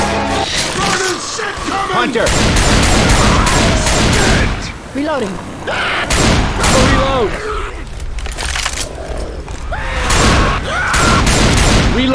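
Dense, loud gunfire from Left 4 Dead 2 on the Cold Stream campaign, rapid cracks and bursts with occasional booms that keep going almost without pause, mixed with speech.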